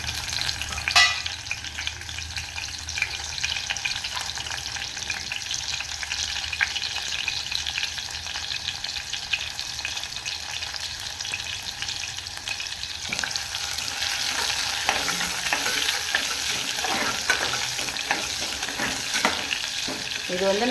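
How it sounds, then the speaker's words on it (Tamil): Onions frying in hot oil for a Tamil-style mutton pepper gravy, a steady dense sizzle with occasional stirring scrapes and clicks toward the end, close and continuous with no voices. "நம்ம இந்த வெங்காயம் போட்டு கொஞ்சம் வதக்கிக்கலாம்."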